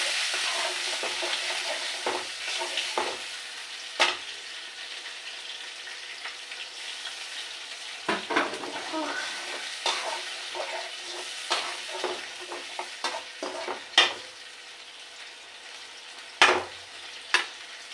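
Onion, garlic and ginger paste, blended together, fries in a pan with a steady sizzle and occasional stirring scrapes and clinks, heard up close with no talking.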